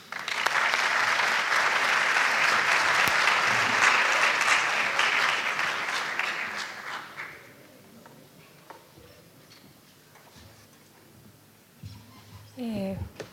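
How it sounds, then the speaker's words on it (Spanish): Warm audience applause rings out for several seconds, then fades into scattered claps and room noise before a voice begins. "Brindémosle un cálido aplauso para recibirla."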